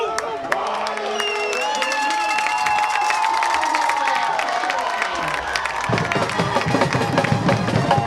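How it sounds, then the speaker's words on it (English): A home crowd at a high school football game between Franklin and Attleboro cheers loudly and continuously, with whoops and clapping from a packed stand, while announcers talk over the roar. "Mike, it's been a while since we've heard a home crowd this enthusiastic, this loud, this late in a ball game"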